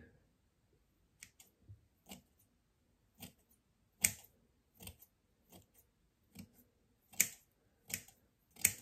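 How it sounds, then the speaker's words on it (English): Scissors snip close to the microphone in an ASMR barber roleplay, a series of about a dozen crisp, sharp metallic cuts spaced irregularly, some doubled, over near silence. "I love scissor sounds."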